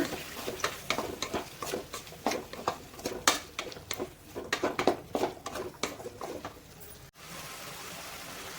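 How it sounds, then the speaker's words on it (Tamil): Bitter gourd and potato being stirred with salt in a pan: a run of close, rhythmic scraping and tossing strokes, irregular but steady, stopping abruptly near the end and leaving a faint background hiss, with no talking. "உப்பு போட்டு நல்லா கலந்து விட்டுக்கோங்க"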